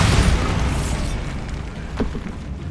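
The Bombarda spell explodes in the Hogwarts Legacy video game with a loud, close boom that decays into a rumbling tail, followed by a small crack near the end.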